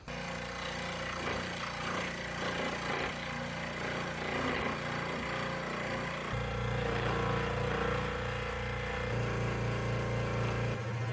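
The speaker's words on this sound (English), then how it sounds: "I think we'll do this one on the scroll saw." A scroll saw cuts through wood, a steady buzzing motor drone with a continuous rasping cut that shifts in pitch partway through, running loud and unbroken with no talk.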